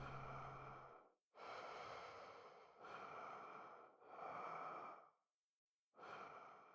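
A digital Slimer collectible plays its breathing sound effect: five long, heavy, wheezy breaths in a steady rhythm, each separated by a short gap, loud and close with no talking.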